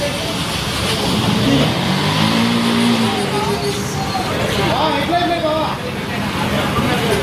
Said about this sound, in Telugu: బండిలు అయితే స్టార్ట్ చేస్తున్నారు